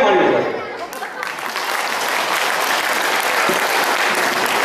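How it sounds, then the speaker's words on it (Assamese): Audience gives a third and final round of applause at a farewell meeting for the general manager of Numaligarh oil refinery: loud, sustained, full-room clapping that fills the whole stretch. "তৃতীয় আৰু শেষবাৰ হাত চাপৰি"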